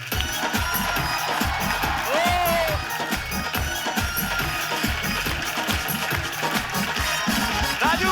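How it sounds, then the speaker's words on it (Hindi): A studio audience on the Kapil Sharma Show applauds and cheers as comedian Raju Srivastava is welcomed, giving sustained dense clapping with crowd noise throughout. "उनके लिए जोरदार तालियां।"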